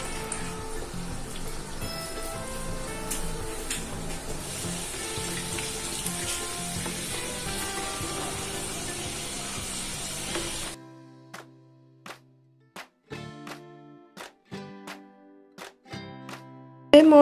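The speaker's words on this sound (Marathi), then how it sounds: "हे तेल आता चांगलं गरम झालेलं आहे तर हे मोदक आता मी ह्याच्यामध्ये तळून घेते." Dry coconut modak deep-fry in hot oil, a dense, steady bubbling sizzle close by for about ten seconds, then it stops, leaving sparse clinks and taps of utensils.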